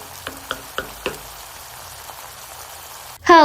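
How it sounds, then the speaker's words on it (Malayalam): Biryani masala frying in a pan and being stirred, with a steady sizzle and four evenly spaced scraping knocks of the spoon early on. "എനിക്ക് ഇങ്ങനെ ഇളക്കാൻ ഭയങ്കര ഇഷ്ടമാട്ടോ, ഇങ്ങനത്തെ എല്ലാം ഇട്ടിട്ട്."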